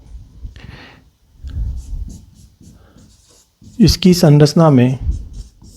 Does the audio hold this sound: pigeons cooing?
no